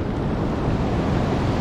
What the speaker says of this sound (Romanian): Tu vezi ce valuri mari.